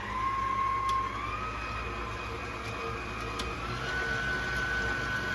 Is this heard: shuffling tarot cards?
no